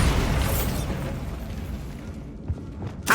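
A Bombarda blasting spell goes off in the video game Hogwarts Legacy: a loud, broad burst with a rumbling boom that decays over a couple of seconds, followed by a couple of smaller pops near the end.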